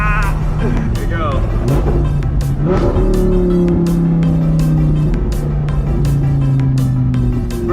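An Audi R8 V10 engine revs hard and climbs high through the RPMs, loud and close, its rising tone stepping through crisp gear shifts while someone talks over it.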